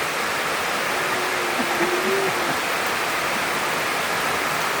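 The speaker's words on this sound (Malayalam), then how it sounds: "മഴ അടിക്കണ സൗണ്ട് കേട്ടോ" Heavy rain pours down in a dense, continuous roar, loud and unbroken throughout, with a faint brief voice-like tone in the middle.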